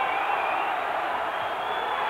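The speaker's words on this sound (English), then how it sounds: "the crowd urging him on" A large boxing-arena crowd roars and cheers for Nigel Benn, a dense, continuous wall of voices that holds steady at high volume with no pauses.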